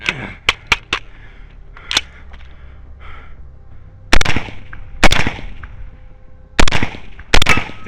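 Rifle shots at a night-vision biathlon run-and-gun course, sharp cracks fired singly and in quick pairs with gaps between, loud and close, separated by quiet stretches with faint handling noise.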